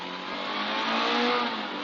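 Classic rally car engine revving, a steady mid-pitched roar that swells and eases over a couple of seconds, close and alone without talk.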